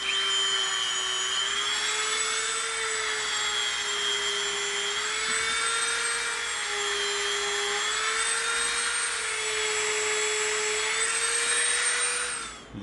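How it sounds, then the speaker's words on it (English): A Dremel rotary tool whines at high, steady speed while carving rivet marks into EVA foam, a close, continuous buzzing tone that wavers slightly in pitch and stops abruptly at the end. "now we're going to come in with our Dremel and we're going to make a couple rivet marks"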